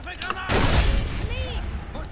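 A grenade blast booms up close in co-op Far Cry 3, with short gunfire rattling around it, while players talk over the action.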